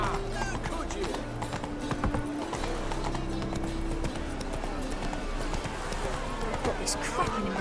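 Hooves of Roach, the horse in The Witcher video game, clatter in a fast, continuous galloping clip-clop. Other game sounds and voices mix in throughout.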